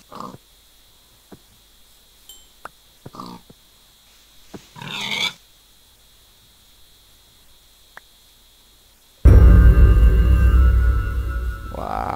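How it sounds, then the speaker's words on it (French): Several short pig grunts and oinks from Minecraft pop up separately over quiet game ambience, followed by a loud, sustained burst of broadband game noise near the end. "Oh là là, tout plein de cochons."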